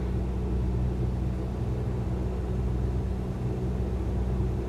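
Aircraft engine in Microsoft Flight Simulator, flying a pattern at Cranfield EGTC at about 1800 RPM with two notches of flaps out: a steady, loud, continuous droning hum with no breaks and no talk.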